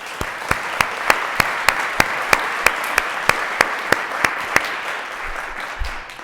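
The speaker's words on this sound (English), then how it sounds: "So I'd like to start with a round of applause for those guys." A lecture audience gives a round of applause for the event staff at a neuroscience week lecture, sustained dense clapping with regular prominent claps, holding steady for about six seconds.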